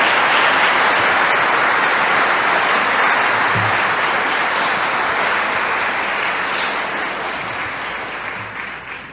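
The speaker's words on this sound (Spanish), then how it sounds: "les demos un fuerte aplauso también para apoyarlos." A church congregation gives sustained, loud applause at a Spanish-language Sunday service, a dense continuous wash of many hands clapping that fades slightly toward the end, with no talking over it.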